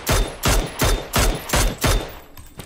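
Six loud, evenly spaced bursts of automatic gunfire from a shooter video game, each a sharp crack with a brief tail, firing in steady rhythm close up before trailing off into quieter rumble.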